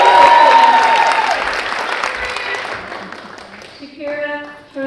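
Loud applause at the West Town Academy graduation ceremony for honors students, a dense wash of clapping from the crowd that gradually fades before a speaker resumes talking.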